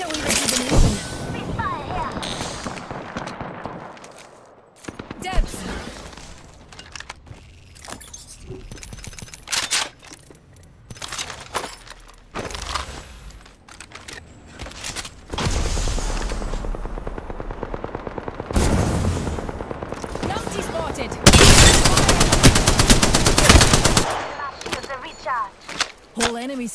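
Automatic weapon fire in the battle royale game Apex Legends, bursts of rapid shots alternating with quieter stretches, with several loud sustained volleys near the end, mixed with in-game voice callouts.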